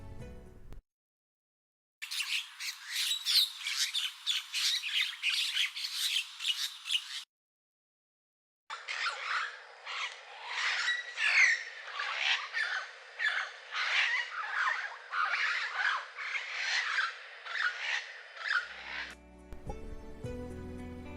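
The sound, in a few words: Mynahs giving loud shrill calls while fighting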